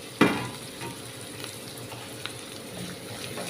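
Small shallots drop into hot oil with curry leaves, a sharp burst of sizzling at the start that settles into a steady, moderate frying hiss with occasional pops and spatters, no voices.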